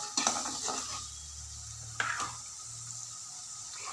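Onions sautéing in a pan for egg gravy, a soft sizzle under spatula scrapes and stirring knocks, with two sharper clatters of utensil against the pan.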